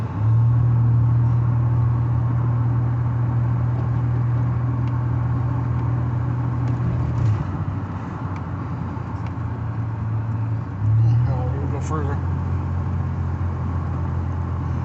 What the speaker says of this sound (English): This thing actually runs good. It's just a worn out truck.